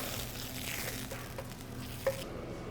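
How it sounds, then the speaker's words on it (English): Tomato sauce made from pureed tomato bubbles gently in a pan, a low, soft sizzle and faint patter with one small clink near the end, quiet and close. "So now that we've been letting our sauce simmer for just a few minutes"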